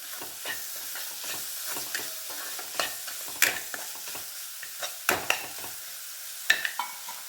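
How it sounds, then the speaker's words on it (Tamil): Masala with a pinch of sugar sautéing in a pan for a sandwich stuffing, soft steady sizzle under repeated scraping and stirring taps of a spoon against the pan, close and fairly quiet. "மசாலா நல்லா வதக்கிட்டு கொஞ்சோண்டு ஜீனி அதையும் இதோட சேர்த்து வதக்கணும்"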